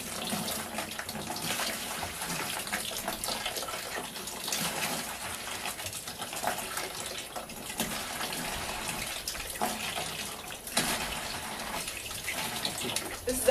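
Water gushes steadily from a simple hand pump outdoors, a continuous splashing rush with slight surges from the pumping strokes, fairly close, with a voice faintly present.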